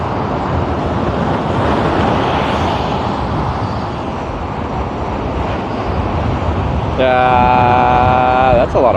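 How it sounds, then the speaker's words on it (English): Strong wind roaring steadily across a microphone beside an interstate highway, loud and continuous throughout, with a brief tonal whine rising near the end. "That's a lot of wind."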